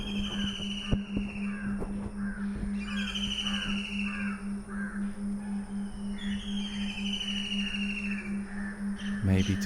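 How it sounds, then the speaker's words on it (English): Crows cawing among other birds outdoors, repeated harsh calls over a lively, constant backdrop of chirps and a steady low hum. "All these birds communicate right now by making sounds,"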